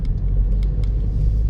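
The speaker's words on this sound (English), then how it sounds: "But I do love how this car just drives." An old project car drives along with a low, steady engine and road rumble heard from inside, with faint light rattles over it.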